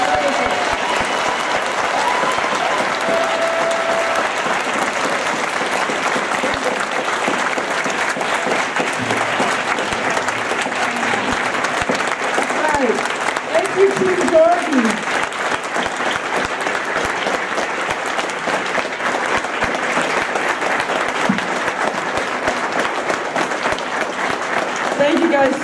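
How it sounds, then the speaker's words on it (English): Sustained applause from a convention panel audience in a hall, steady dense clapping that holds for the whole stretch, with some cheering mixed in. "can we get a round of applause to Harriet and thank her for everything"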